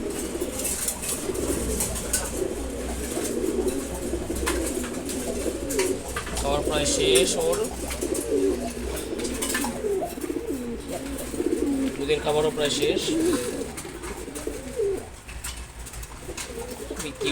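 Khaki pigeons coo in a low, repeated murmur while feeding, close by, with a person talking over them throughout.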